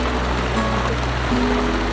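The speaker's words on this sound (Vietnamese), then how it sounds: "Mưa rất là đẹp." Rain pours steadily on a farm with chili and coffee plants after about three months of drought, a dense, even wash of falling water with no break, close and fairly loud.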